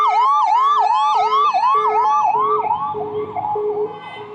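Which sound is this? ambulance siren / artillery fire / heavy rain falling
ambulance siren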